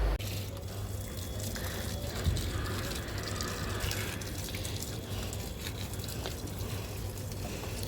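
Water is poured into potted plants, a steady hissing gush that runs unbroken for several seconds over a low background hum.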